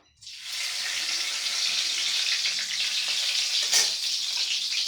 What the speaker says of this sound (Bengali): দেখো আমার কড়াই গরম হয়ে গেছে আমি দুইটা তেজপাতা দিয়ে দিব